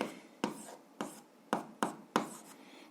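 Pen writing on paper while working an algebra exercise: five or six short, crisp scratching strokes at a steady rhythm, close and clear, with no talking.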